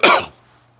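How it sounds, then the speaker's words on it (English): A single short, sharp human cough, close and loud, fading quickly into quiet. "No, that's not a corona cough."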